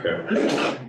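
A single close sneeze bursts out in a meeting room during a police station task force session, brief and sharp, with a short spoken word alongside it.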